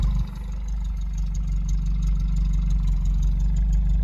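A car engine with about 336,700 miles idles steadily at around 750 RPM with a low, even rumble, close by and unchanging throughout, with no talking.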